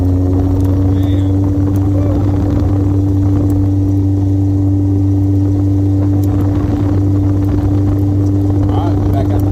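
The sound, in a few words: vintage 1967 Lotus 7 car driving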